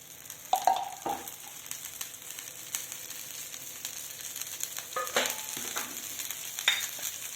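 An egg fries in ghee in a home kitchen pan, giving a close, continuous crackling sizzle with bursts of spattering and occasional stirring scrapes, with no one speaking.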